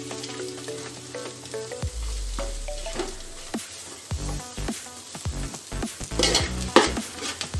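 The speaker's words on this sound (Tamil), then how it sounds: "பாருங்கள், வெங்காயம் நல்லா வதங்கி வந்துடுது." Onions sautéing in a pan for chicken 65 biryani, a continuous close sizzle with repeated scraping stirs of a spoon against the pan and no talk.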